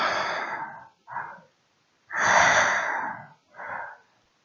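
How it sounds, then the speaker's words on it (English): Slow, heavy breathing in the dark, close and alone: two long rasping breath pairs, each a longer exhale followed by a shorter intake, separated by silence. "I heard breathing."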